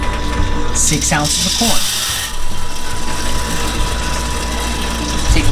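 Popcorn machine motor turning its kettle, a dry rhythmic ratcheting and clanking of gears that runs throughout, close up, with a person briefly speaking over it.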